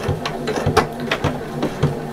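A sewing machine runs along the bottom seam of a fabric bag, giving a steady mechanical whir broken by repeated clicking needle strokes, close and fairly loud with no talking.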